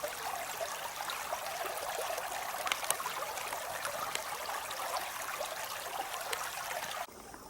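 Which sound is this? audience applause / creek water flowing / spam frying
creek water flowing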